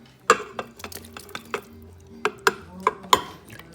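Beef stroganoff stirred in an Instant Pot: a spoon knocks and scrapes against the metal insert in a run of sharp, close clacks, quick at first, then spaced out with brief pauses.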